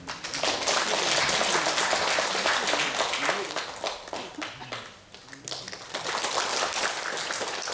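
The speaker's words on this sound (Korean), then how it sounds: "박수." An audience at a Catholic lay assembly applauds a speaker, a dense sustained patter of many hands clapping that dips briefly midway and then swells again.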